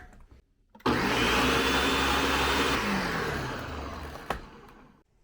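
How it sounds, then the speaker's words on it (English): A countertop blender runs on high, loud and steady, puréeing cooked chanterelle mushroom soup; the whir starts abruptly after a short quiet moment, drifts slightly in pitch, then winds down near the end. "Cover and blend on high power until pureed,"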